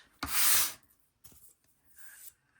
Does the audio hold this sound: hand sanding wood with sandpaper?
yes